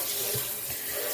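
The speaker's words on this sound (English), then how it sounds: "I'm going to rinse my hands off good." Hands rinsed under a running kitchen tap during home cooking, a steady close splash of water pouring into a sink with no talking.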